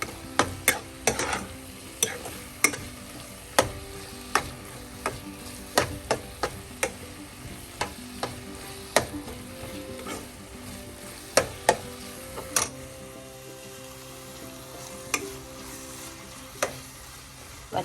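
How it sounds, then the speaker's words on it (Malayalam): Masala being stirred in a pan for Kerala crab roast, a low sizzle of frying running under it while the spoon scrapes and knocks against the pan in irregular, crisp strokes, with no talking. "പച്ചമണം മാറുന്നത് വരെ മിക്സ് ചെയ്യും."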